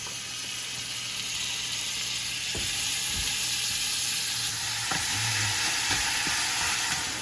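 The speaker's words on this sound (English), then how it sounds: "the oil is hot, and I'm gonna add my oxtail to sear them." Oxtail pieces sear in hot oil in a pot for Jamaican oxtail, giving a steady close sizzle with a few sharp spits and pops as the meat settles.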